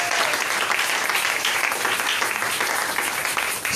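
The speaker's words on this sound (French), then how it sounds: "J'aimerais que tu applaudisses pour Dieu." A church congregation applauding during a worship service, loud continuous clapping from many hands filling the room for several seconds.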